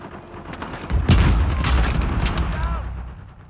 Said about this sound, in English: Comes a pancake bomb.